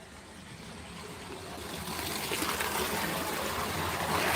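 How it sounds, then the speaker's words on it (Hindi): Water gushing out while filling a container, a broad steady rush that grows gradually louder over several seconds, with no talk. "ये पानी आ रहा है।"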